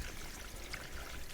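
Hose water flushing through an old radiator from a C3 Corvette makes a steady, rushing pour that stays even and close throughout.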